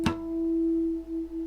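A guitar harmonic pair rings after one sharp pluck, two strings set slightly out of tune so the sustained tone wavers and pulses in a slow beating, fairly quiet and alone with no talk.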